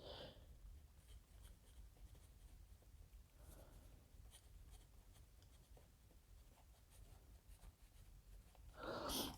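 A pen fitted with a Fisher Space Pen refill scratches across paper in soft, steady strokes, faint and close with no talk, a louder scrape marking the end.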